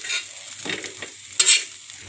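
Mutton frying in oil in a pan while naan chaap is cooked: a steady close sizzle, stirred now and then, with a brief louder hiss partway through.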